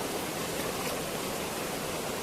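Muddy floodwater rushes along a swollen village stream after heavy rain, a dense, steady roar of water with no breaks, close and loud with no voices.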